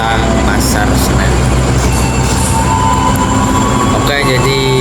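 Inside an economy-class New Generation train carriage at Jakarta Pasar Senen station, a loud steady rumble of the train fills the space, with faint squeals and clanks rising briefly near the end.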